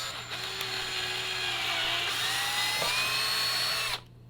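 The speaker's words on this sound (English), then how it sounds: "The drill, the weight of the drill will do all the work." An electric drill bores slowly through a plastic jar lid, giving a loud, steady whine that shifts pitch as the bit works through the plastic, then stops abruptly near the end.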